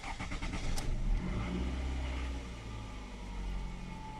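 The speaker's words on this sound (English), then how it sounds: "we're going to start the car" A 2004 Toyota Camry engine cranks and catches, then settles into a low, steady idle heard close up.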